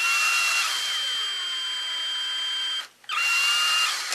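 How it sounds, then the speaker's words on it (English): A power drill spins steadily with a high whine for nearly three seconds as it turns a pinion gear for a GCM Dingo upgrade, cuts out briefly, then spins up again, loud and close with no talk over it. "I put my pinion gear on the drill"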